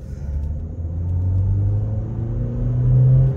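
A VW Virtus GT and a BMW X4 at full throttle in a drag race, a low rumbling engine drone that swells steadily as the cars accelerate, fairly close and without speech.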